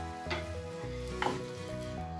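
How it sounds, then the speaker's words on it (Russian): Japanese tamagoyaki omelette sizzles in a pan on the lowest heat, a steady soft frying hiss with light scraping and a couple of small clinks from turning the rolled egg. "Когда завернули последний кусочек, еще немного прожариваем на самом минимальном огне"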